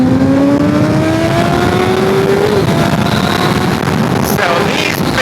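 A super sport motorcycle engine revs hard, its pitch climbing steadily then dropping off, loud and close with a steady roar beneath.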